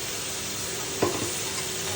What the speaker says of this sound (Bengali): মশলাটা ঠিক মতো কষাবো।